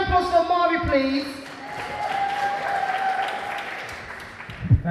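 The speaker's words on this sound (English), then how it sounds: "Another big round of applause for Amari, please." A crowd applauds with steady clapping that fades slowly over a few seconds, with no talking over it.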